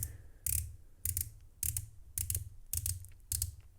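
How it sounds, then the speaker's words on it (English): A 120-click unidirectional dive watch bezel is turned in six short bursts of rapid, crisp clicking, spaced about half a second apart, close and quiet. "120 click unidirectional bezel"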